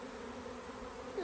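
Agitated honeybees swarm around a hive on a summer day, giving a steady, close, droning buzz that holds at an even pitch throughout, with no talk.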